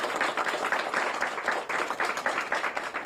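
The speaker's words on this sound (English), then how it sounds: "yeah, we should clap for that" An audience claps at a Connecticut state bill signing, a fairly faint, steady patter of many hands lasting a few seconds without a break.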